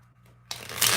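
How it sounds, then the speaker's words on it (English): Decks of reading cards being shuffled close up during a live card reading: after a quiet start, a sudden crisp riffling burst kicks in and grows brighter and louder toward the end. "when I'm done shuffling these decks"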